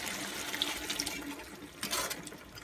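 Water is poured into a pot of home-style chicken gravy as it cooks, a continuous splashing, gushing stream that stays fairly even throughout, with no talking.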